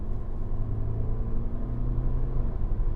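A BMW 5 Series car under way as the driver accelerates, its engine giving a steady, moderate low rumble heard from inside the cabin, with no talking.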